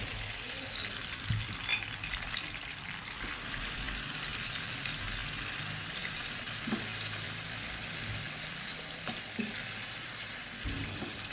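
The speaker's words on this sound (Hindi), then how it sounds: "मीडियम फ्लेम पर हम इसको फ्राई कर रहे हैं।" Chicken for Persian-style chicken kadhai fries in a pan over a medium flame, giving a continuous, even sizzle with a few soft stirring knocks and clinks close by.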